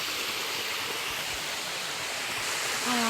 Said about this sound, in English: We came up here to see this waterfall.